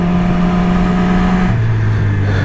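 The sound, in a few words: Yamaha R6 motorcycle engine revving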